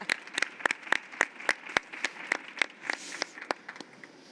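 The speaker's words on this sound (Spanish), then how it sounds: "Un aplauso para las invitadas" Guests at a design-fair speaker's corner during Intergift 2022 receive a short round of applause from a small audience, sparse distinct claps in a fairly steady rhythm, close and moderately loud.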